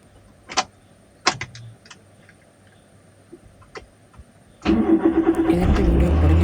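A motorbike engine catches and settles into a loud steady idle after a few scattered clicks and knocks, close by with no talk; it was started without using the self starter.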